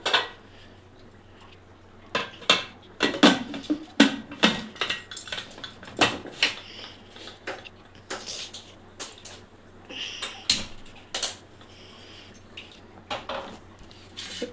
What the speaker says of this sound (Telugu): సాల్ట్ వేసి ఇప్పుడు కుక్కర్ మూత వేయాలి.